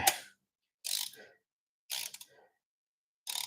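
A ratchet wrench loosens a 14 mm bolt on a Toyota 1MZ-FE intake plenum in four short bursts of close, quiet clicking, separated by brief silences.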